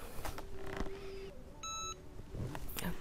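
A heat press timer beeps in a short run of evenly spaced electronic tones partway through, set against light room noise while pressing heat transfer vinyl onto a T-shirt.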